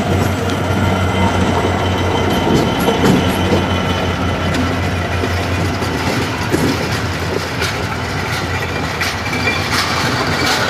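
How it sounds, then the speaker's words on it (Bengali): A slow train rolls past in the city near Dhaka, loud and close, with continuous rumbling wheels, rhythmic clacking over rail joints and occasional high wheel squeals. "এই দেখেন কি সুন্দর একটা ট্রেন"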